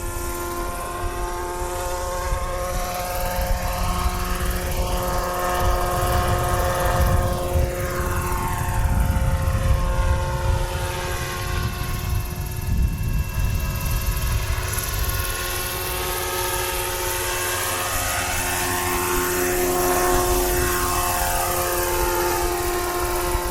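An 800-size Roban MD-500E RC model helicopter flies circuits outdoors, its rotor and motor giving a steady loud whine and buzz with a shifting, sweeping pitch as it passes, continuous throughout.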